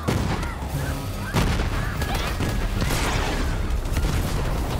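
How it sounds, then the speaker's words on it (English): Rocket launcher blasts and heavy gunfire from a Borderlands 3 fight against a tanky enemy crash in a dense, loud barrage, with a sharp jump in intensity partway through and constant overlapping booms. "even the rocket launcher ain't doing shit to them"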